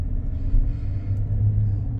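A 2021 Chevrolet Silverado 1500 Custom Trail Boss pickup, said to have a 4.3-liter engine, driving around the block, giving a steady low engine and road rumble with a slight surge midway, heard from inside.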